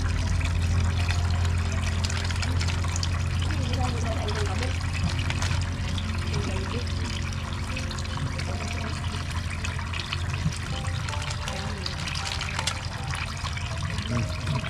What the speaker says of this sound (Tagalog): Ayun, tulo na.